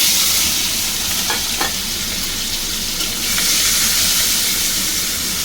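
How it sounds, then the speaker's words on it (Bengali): Prawns fry in a pan for a dish with kochur loti, giving a loud, steady sizzle and hiss with a few brief stirring scrapes, no voices over it. "চিংড়ি মাছটা আমি ভেজে নিচ্ছি।"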